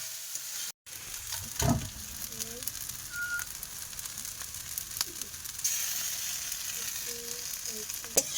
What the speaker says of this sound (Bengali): এই যে পাস্তা দিয়ে দেবো এবার। এবারে ভালো করে কষাই করবো।